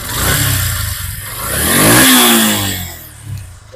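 Yamaha FZ version 1 motorcycle engine idling and revving after a half-kick start, with a fault noted in its rough condition; loud, close, swelling to a peak rev midway then settling back.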